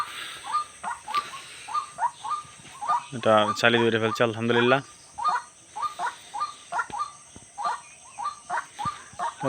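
A white-breasted waterhen (dahuk) that wandered into a home gives a steady run of short, repeated calls at close range, with a voice briefly talking over them midway.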